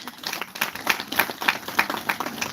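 An audience at a sustainability entrepreneurship event claps for a panelist, a loose burst of individual claps at moderate level from a modest crowd.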